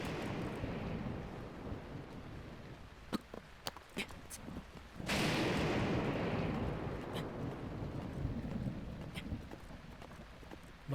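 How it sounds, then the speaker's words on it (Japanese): Rain and a thunderclap in the video game Zelda: Breath of the Wild, with a steady hiss of rainfall and a loud rumbling thunder burst midway that slowly fades, plus scattered sharp in-game clicks. "まさかの雨"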